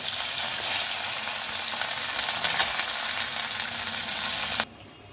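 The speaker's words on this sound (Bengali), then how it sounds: "বাকি মাছগুলো একইভাবে ভেজে নেব" Loud, dense sizzling of small khoira fish frying in hot oil, continuous and close, then cutting off sharply near the end.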